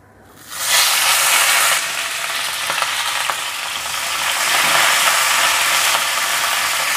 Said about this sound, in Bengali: এই তেলেতেই ফুলকপিগুলো একটু ভেজে নেবো ভালো করে